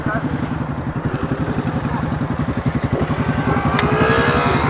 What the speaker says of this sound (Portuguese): Nossa moto aí, galera.